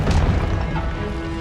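A short impact effect from a spell cast in the Hogwarts Legacy video game: one loud booming smash followed by a brief rumbling decay.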